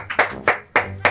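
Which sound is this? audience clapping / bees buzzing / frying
audience clapping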